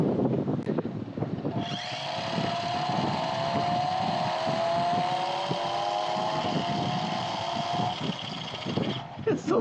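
A cheap twenty-dollar RC car whines up to a steady high motor drone, pitch sliding and stepping as it shifts gears, running close for several seconds before cutting off, with a voice talking over the start.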